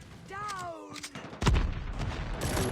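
Gunfire in Call of Duty Mobile: a single sharp, loud shot cracks out midway, followed by a rumbling tail, after a brief tonal sweep at the start.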